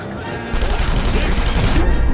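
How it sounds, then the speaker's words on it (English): Loud, dense gunfire in The Saboteur video game, a rapid fusillade of overlapping shots that continues steadily and close for the whole moment. "shooting my way through their feeble attempts to stop me"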